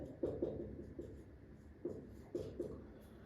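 Hand writing on paper during a maths lesson, heard as quiet scratchy pen strokes in short clustered bursts with brief pauses between them.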